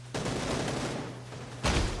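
Sustained bursts of gunfire in the battle royale video game PUBG, a dense rapid stream of shots that swells louder near the end.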